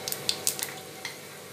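Cumin seeds hit hot mustard oil in a pan while a whole red chilli and garlic chutney is made, giving a brief cluster of sharp crackles and pops over a low, steady sizzle.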